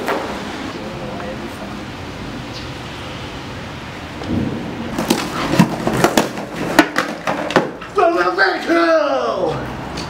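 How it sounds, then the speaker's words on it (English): Rain on a Sunday morning gives a steady wash, then cracks and rumbles of a nearby thunderstorm build through the second half, loud and close. "It was a rainy Sunday morning"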